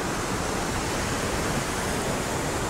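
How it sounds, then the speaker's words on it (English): A steady roaring hiss of a waterfall pouring over a sheer drop and crashing onto well-washed rocks below, continuous and dense, with no voices. "You can hear the hiss and the roar of the water crashing into the well-washed rocks below."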